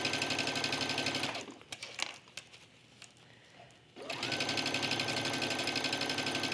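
A sewing machine running a straight stitch along a trench coat hem, a close, steady rapid whirring hum that stops for a couple of seconds of quiet handling noise, then resumes at full speed.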